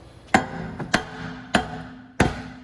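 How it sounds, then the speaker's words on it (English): Four sharp metallic hammer strikes hit the back of a Toyota Prius rear wheel bearing at an uneven, deliberate pace, each ringing briefly before fading. "we got to whack from behind the wheel bearing and get this to pop out."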